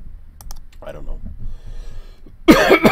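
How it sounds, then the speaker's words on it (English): A brief raspy cough and throat clearing among keyboard clicks, followed by a louder burst of talking near the end. "Dang it. Stop coughing."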